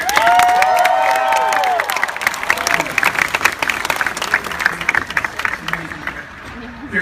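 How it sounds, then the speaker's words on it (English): At the Disneyland 60th anniversary, a crowd gives Richard Sherman a round of applause, loud, sustained clapping with cheers and whoops rising at first, then easing toward the end. "So please a round of applause for Richard Sherman."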